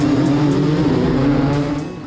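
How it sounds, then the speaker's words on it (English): Old two-stroke dirt bikes revving together at a motocross start gate, a loud, steady, buzzing engine drone from a full field held at high revs, close and continuous with no talking. "The revs are up and the gates are down."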